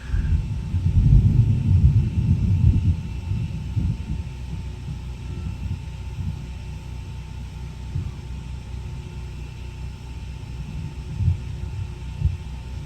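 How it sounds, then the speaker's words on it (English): Loud, massive thunder rumbles low and heavy at an RV campsite, peaking early then rolling on in a long fading grumble, with a few later swells. "that was massive thunder"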